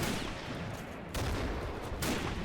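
Rifle and machine gun fire crackles from a WWII Soviet factory defense battle in a Totaler Krieg mod, with distant overlapping shots and bursts under a dense battle roar, two louder volleys standing out, no talking.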